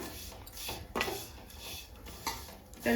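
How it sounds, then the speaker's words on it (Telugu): Vermicelli (semiya) being fried in a kadai for semiya payasam, a utensil scraping and stirring in a few short, near scrapes and clinks over a quiet background. "సేమియాలు వేసి వేయించుకుందాము."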